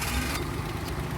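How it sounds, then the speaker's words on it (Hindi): A car engine with a fault idles close by, a steady low rumble with a rougher, brighter texture for the first moment before settling into an even hum. "इस गाड़ी का साउंड चेक करो"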